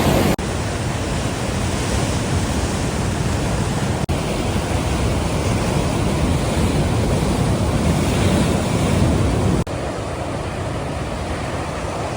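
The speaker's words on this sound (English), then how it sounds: "The waves are crazy." Surf pounding the rocky coast at Lottin Point, a loud, continuous roar of breaking waves mixed with wind buffeting the microphone.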